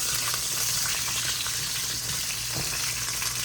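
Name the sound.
carrots cooking in olive oil in a pan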